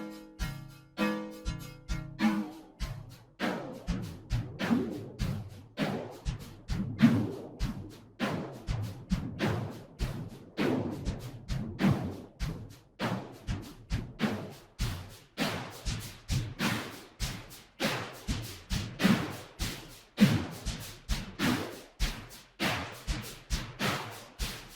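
Drum loop processed through an RV7000 reverb with a high modulation amount, steady repeating kick and snare hits smeared into a washy, swirling tail, fairly quiet and with no voices.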